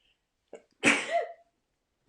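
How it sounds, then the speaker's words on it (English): A single sharp sneeze, close and loud, preceded by a quick intake of breath and followed by silence. "I'm going to sneeze in a sec."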